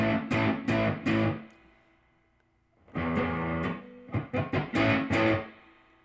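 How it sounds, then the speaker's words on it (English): Distorted electric guitar chords through a Lovepedal Vintage Modern pedal with Marshall-style distortion, in two bursts, crunchy and saturated, with a brief quiet gap between the strummed phrases. "So I guess it is more of your Marshall type distortion pedals."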